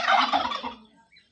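A turkey in Odisha gives a loud, rapid gobbling call that trails off into quieter warbling, close by with no talk.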